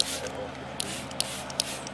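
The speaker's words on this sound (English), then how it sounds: "I'm spraying it here on this suction line" Nu Calgon Thermo Trap heat barrier gel hisses steadily from an aerosol can onto a suction line, a continuous close spray with a few small clicks and bumps.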